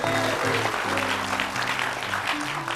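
A television talk show studio audience applauds a guest: dense, continuous clapping at a steady level, with music playing underneath.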